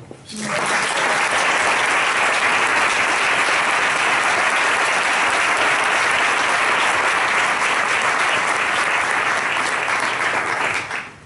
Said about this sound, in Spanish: quisiera pedir un fuerte aplauso